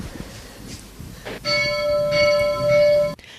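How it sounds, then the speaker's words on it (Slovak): A hand-rung bell at St. Urban's church on Zobor in Nitra sounds one clear ringing strike that hangs and resonates for over a second and a half before cutting off, after some quiet low background noise. "Kostol svätého Urbana v Nitre na Zobore je zaujímavý aj tým, že je posledným nitrianskym kostolom, v ktorom sa stále zvoní ručne."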